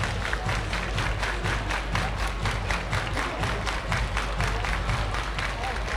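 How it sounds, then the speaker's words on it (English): A baseball crowd at a minor-league game claps in a steady, rhythmic unison, dense applause filling the whole stretch with little letup and a faint murmur of voices beneath. "Everybody clap your hands."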